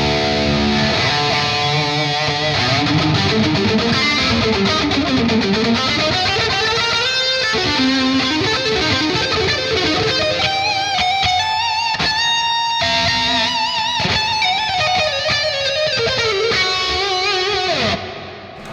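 A distorted metal lead guitar through the Fortin Nameless Suite plugin plays fast runs, bends and sustained high notes drenched in reverb, loud and continuous for nearly twenty seconds before fading into a reverb tail.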